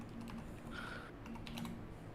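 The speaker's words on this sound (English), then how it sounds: "Oh, he's typing." Typing on a computer keyboard during an online voice-chat game session, soft rapid key clicks that are faint and steady with no talk over them.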